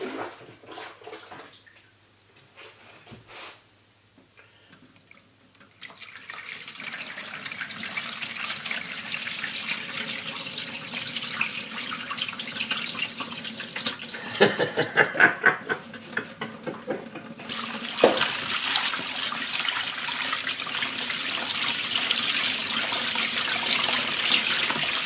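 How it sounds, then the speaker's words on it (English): Water poured into a homemade microgeneration turbine housing, a steady splashing and gurgling flow that builds from quiet to a sustained rush, with a few brief knocks partway through. "I'm going to pour a bit of water in here"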